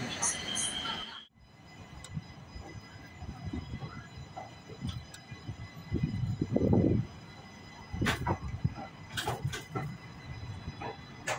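Salem–Chennai Superfast Express train running at speed, heard from inside as a steady rumble of wheels and carriage noise with intermittent clatter and knocks, a brief dip near the start, and voices talking over it.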